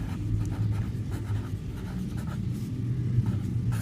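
Pen scratching steadily on paper as odd-number probability notation is written out by hand, a continuous soft scraping with a low background rumble and no voice.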